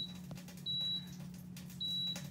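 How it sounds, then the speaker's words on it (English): A Power XL grill's control panel beeps twice as buttons are pressed, short thin electronic tones spaced about a second apart over a low steady hum, quiet and alone. "I'm going to press timer, and now I'm going to press my minutes"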